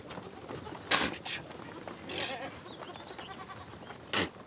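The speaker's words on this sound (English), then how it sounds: "Every morning, Zalfa Al Subhi helps her goats suckle their young." Goats in the desert mountains of Oman bleat from close by while their kids suckle. A couple of loud bleats stand out over quieter rustling and occasional faint calls.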